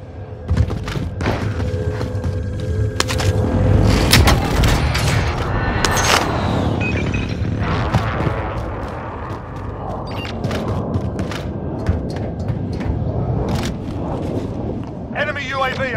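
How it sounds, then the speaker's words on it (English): An airstrike in Call of Duty Warzone lands as a run of heavy booms and thuds over a rolling low rumble, followed by scattered gunshots and voices amid ongoing battle noise. "Airstrike, take cover!"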